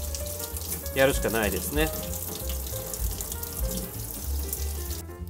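Hot water runs over a frozen diamond- and heart-shaped ice mold to loosen the ice, a soft splashing flow under a voice talking nearby.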